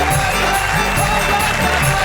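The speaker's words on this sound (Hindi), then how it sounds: "जरा जोरदार तालियां" Loud, steady applause from a live audience at a Hindi poetry show, greeting the poet Vishnu Saxena, continuous from start to end with a low musical rumble beneath.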